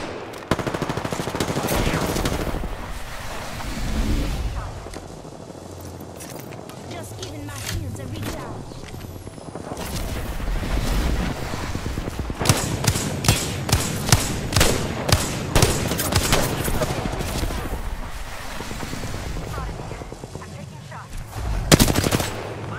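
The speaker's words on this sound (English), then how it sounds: "I'm getting shot at." Bursts of automatic gunfire in Apex Legends, rapid volleys of shots that grow denser in the second half over a steady background of game sound, with speech heard throughout.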